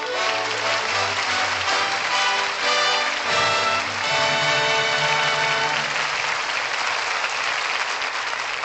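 Sustained, dense applause from a radio theatre studio audience, loud and steady throughout with a broad wash of many hands clapping at once.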